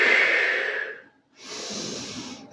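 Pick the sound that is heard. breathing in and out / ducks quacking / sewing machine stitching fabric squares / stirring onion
breathing in and out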